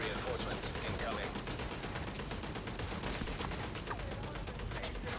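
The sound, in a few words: turrets firing in The Division 2 video game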